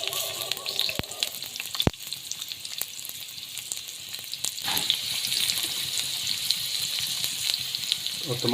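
Onions sizzle steadily in about two tablespoons of hot oil in a pan. The frying hiss is close and constant, with an occasional clink or tap of the pan.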